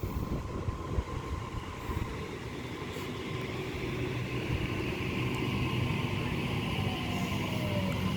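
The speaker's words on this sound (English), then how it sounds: "train to arrive on platform 2 goes to Hornsby" A Sydney Trains Waratah A-set electric passenger train pulls into a station platform with a steady rumble and wheel noise. The sound holds at moderate loudness and builds slightly as the train comes closer.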